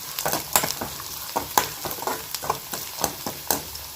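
Vegetables fry in a pan for a South Indian lunch-box meal, a soft background sizzle broken by repeated sharp scraping clicks of stirring, close and irregular but steady in pace, with no one talking.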